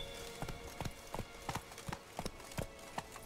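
Horse hooves in the video game The Witcher 3: Blood and Wine, a steady run of distinct clip-clop steps at an even walking rhythm, close and clear with no talking.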